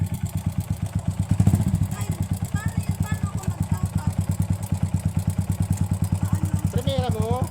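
A motorcycle engine idles and chugs close by with a rapid steady pulse, rising briefly as the learner rider twists the throttle, while voices talk over it.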